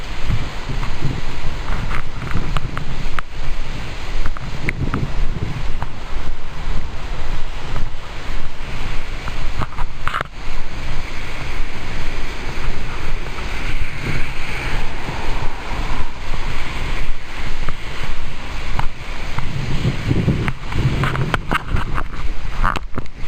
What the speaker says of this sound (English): the sprinkler system, front yard, zone 1